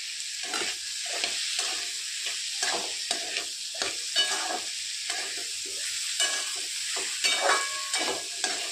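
Green beans sautéing in oil for a dry vegetable dish, a bright sizzle broken by rhythmic stirring scrapes repeating every half second or so, close and alone.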